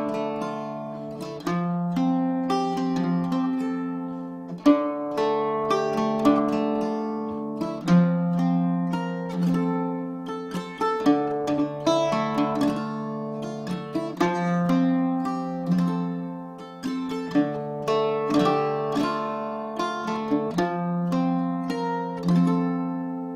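Mandolin strums add9 and sus4 color chords one after another in a lilting 3/4 meter, ringing and clear with steady rhythmic strokes and no talking.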